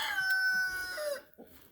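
A rooster crows loud and close in one drawn-out call, ending in a brief chicken cluck.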